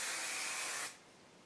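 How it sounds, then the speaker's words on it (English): Hair spray sprayed onto hair during flat iron styling, one close continuous hiss lasting under a second before cutting off to quiet. "So just spray it a little more."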